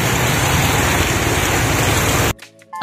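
Heavy rain pours down in a steady, loud, dense hiss that continues without letup and then cuts off abruptly near the end.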